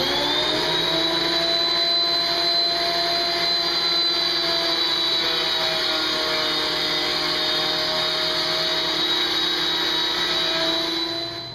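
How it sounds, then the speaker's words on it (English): A thickness planer runs wooden boards through with a steady, loud, continuous whine and high tonal hum that barely changes and carries on without any talk. "I need to put them all through the thickness plane."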